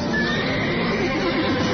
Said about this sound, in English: Mr. Heston, can I take your horse? Yes. Take my horse